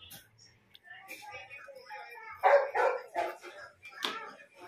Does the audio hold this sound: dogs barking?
yes